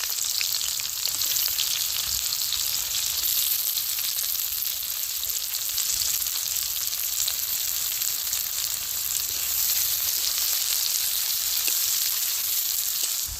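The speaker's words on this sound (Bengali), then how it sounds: "কুচিয়ে রাখা পেঁয়াজটা দিয়ে দিচ্ছি।" Chopped onions frying with garam masala in hot oil, a loud, dense, continuous sizzle held close and unbroken for the whole stretch, with no talk.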